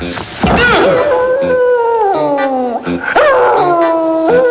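A dog whimpers and whines after being kicked, rising, wavering cries, close and fairly loud, with a yelp near the start.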